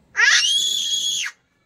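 A young child lets out a single long, loud, high-pitched scream that rises and holds steady before cutting off, close by and with no talk over it.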